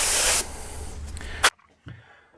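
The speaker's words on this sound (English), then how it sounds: "Hit it with some plastic part cleaner prep." An aerosol can of plastic parts cleaner sprays onto a Promaster City headlight assembly in one loud, steady hissing burst of about a second and a half, followed by a brief quieter spritz.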